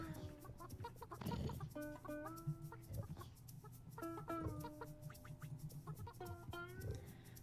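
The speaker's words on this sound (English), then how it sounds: "It's a chicken coop." Chickens cluck in a chicken coop in the video game Burly Men at Sea: steady, repeated clucks and short calls over a low continuous background hum, with no talking.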